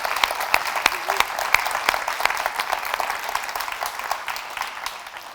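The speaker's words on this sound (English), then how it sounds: "I want to give one more round of applause to our speakers" Audience applause for the speakers at a summit on working with elected officials: a dense, steady stretch of clapping from a sizeable crowd that carries on throughout and thins slightly toward the end.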